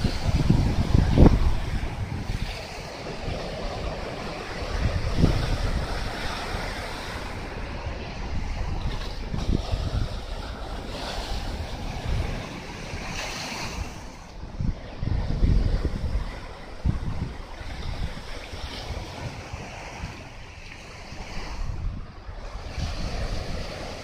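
Steady surf washing onto a sandy beach near the Tottori Sand Dunes in Japan, a continuous broad roar with rolling swells and occasional louder crashes, mixed with wind buffeting the microphone and no talking.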